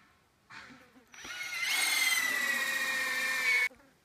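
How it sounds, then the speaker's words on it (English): A power drill bores holes with a 7/16 drill bit while a hollow log dog kennel is built, starting with a short burst and then a steady high whine for about two seconds before stopping. "I need to drill the holes with a 7/16 drill bit."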